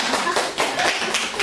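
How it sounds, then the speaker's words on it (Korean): A hairdressing class breaks into clapping during a layered haircut lesson, a dense burst of many hands clapping together, steady and fairly loud throughout. "박수!"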